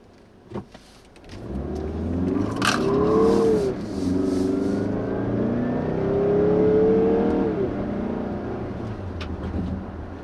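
A 2016 Mazda CX-9's 2.5-liter four-cylinder engine revs up as it accelerates, the pitch climbing steadily, then dropping at a gear change and rising again, with a click near the start.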